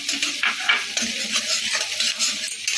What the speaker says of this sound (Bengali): একটুখানি ভাজবো